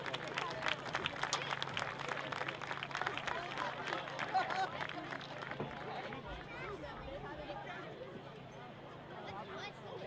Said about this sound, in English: Let's have a round of applause in support of all those affected by breast cancer.